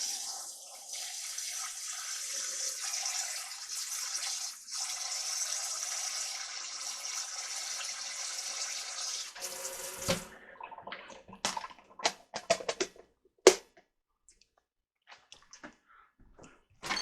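Kitchen tap running steadily into a container of tofu, a continuous hiss and splash for about nine seconds, then the flow stops and scattered drips and clinks of handling follow.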